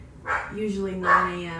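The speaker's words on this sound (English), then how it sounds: "Sorry about the dog." A dog barks twice, near and sharp, mixed in with someone talking during an interview with a river rafting guide.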